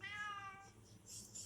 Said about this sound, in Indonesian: kucing yang selalu setia nemenin.